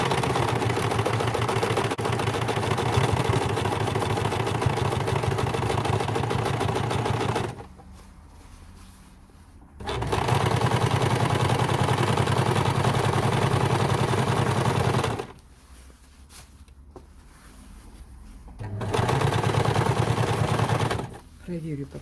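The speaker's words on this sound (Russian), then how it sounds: "Для этого мы будем шить." A sewing machine stitches along a jacket zipper, a dense, steady mechanical whir running loud and close in three long stretches broken by short quiet pauses.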